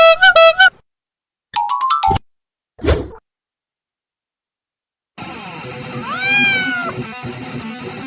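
A cartoon cat gives several sharp, high meows separated by silences, then a longer, wavering meow that rises and falls over a busier background.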